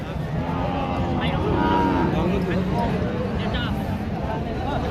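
Bullocks and cattle low at a crowded winter livestock market in Joypurhat, with a busy murmur of people and hoofed animals mixed in, steady and close throughout, with voices talking over the herd.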